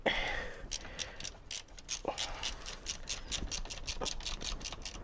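A hand ratchet tightens down a plastic cover back onto a car during a fuel filter job, producing a steady run of about fifteen rapid, evenly spaced clicks, close and clear with no talking.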